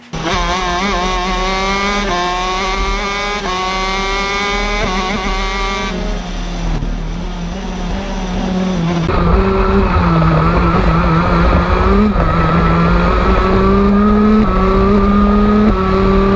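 A go-kart engine drones loudly and continuously, recorded from behind the seat near the exhaust, its pitch rising and dropping as it revs, getting harsher and louder in the second half.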